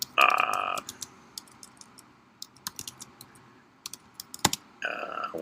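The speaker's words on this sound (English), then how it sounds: "Let me type this in." A computer keyboard is typed on at close range, with irregular clattering keystrokes and a couple of louder bursts of key presses at the start and end.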